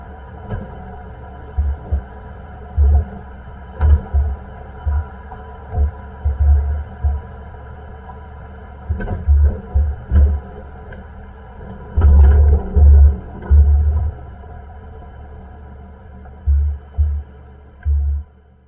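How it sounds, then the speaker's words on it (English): A Nissan Frontier drives along with a steady low road hum, broken by repeated short clunking rattles from the front end that come in irregular bursts and clusters. "there was still a lot of rattling that was going on"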